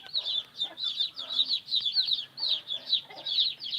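Chickens clucking in a farm coop, rhythmic repeated clucks close by with faint background farmyard noise.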